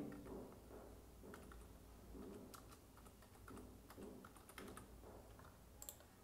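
Typing on a computer keyboard, a steady run of quick, faint key clicks in irregular bursts, heard alone and close.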